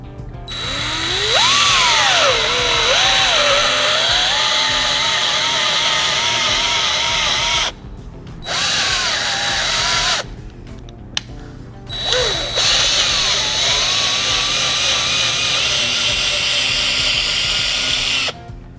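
A drill-driven threading tap cuts threads into a plastic whole-house filter housing, giving long loud whirring runs with shifting pitch and several short stops and restarts.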